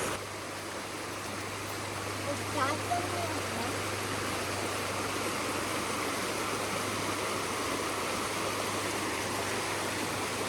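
Water runs steadily through a cold brook, a continuous broadband rushing that stays even and close throughout, with a low steady hum beneath and a brief voice or splash partway in.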